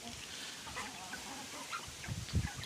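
Soft clucking from a few young chickens on a village farm, quiet and somewhat distant, with scattered short calls and a slightly louder burst near the end.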